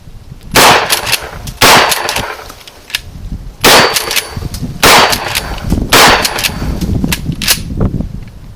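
Mossberg 500 12 gauge shotgun firing high brass loads outdoors, about seven loud, sharp blasts spaced roughly a second apart, each with a ringing, echoing tail.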